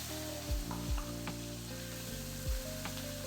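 Chopped onion and garlic frying in hot oil with whole chillies and whole garam masala for a chicken curry, a low sizzle under a steady droning hum, with a few dull knocks of a spoon against the pan.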